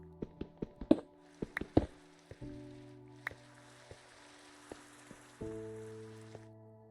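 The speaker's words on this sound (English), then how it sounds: "Oh, it's raining. I was like, what is that sound?" Steady rain pattering in a Minecraft world, a soft continuous hiss beneath plucked game-music notes and a few sharper clicks.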